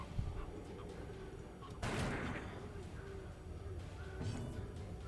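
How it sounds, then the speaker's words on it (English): A pistol shot attack in the dark fantasy game Darkest Dungeon, one sharp burst of gunfire midway over a low murmuring background, with someone talking softly around it. "I have to do pistol shot."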